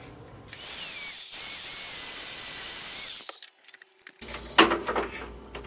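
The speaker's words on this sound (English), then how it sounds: "this is a combination of sandpaper and Scotch-Brite, and it leaves just a great finish, a nice satin finish." Metal is worked with a combination sandpaper and Scotch-Brite abrasive for a satin finish: a loud, steady broadband rasp runs for about three seconds, then cuts off, leaving scattered knocks and a brief burst of handling noise.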